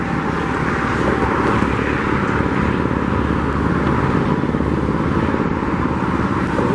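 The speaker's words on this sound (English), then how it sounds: "you're gonna probably hear this noise from this tractor here" A tractor working in a lot near stadium construction, giving a loud, continuous rumbling engine drone with steady broadband noise throughout.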